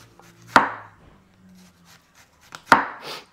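A knife chops through food on a cutting board while bistek is being prepared: two sharp, loud chops spaced about two seconds apart, close and alone with faint background noise.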